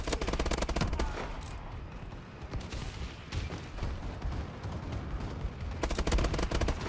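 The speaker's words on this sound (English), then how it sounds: "Friendly bombing run." A friendly bombing run in Call of Duty: Advanced Warfare on PS3: dense, loud bursts of explosions and rapid gunfire that crackle almost without pause, briefly easing mid-way before a heavy barrage returns near the end.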